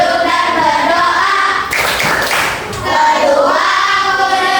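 Schoolchildren in an Indonesian classroom clap a rhythmic chant together, steady hand claps running under loud group singing throughout, with a brief denser burst of clapping midway.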